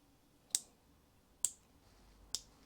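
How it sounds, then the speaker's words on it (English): Three sharp, crisp clicks spaced about a second apart as wiring connector clips snap into place on a plug for an MX5 Miata turbo engine harness, close and distinct against a quiet background. "Once you hear that clip, you know they're in place."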